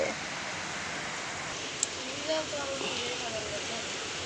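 A steady wash of falling rain fills the air, with a faint voice and a brief click briefly rising over it.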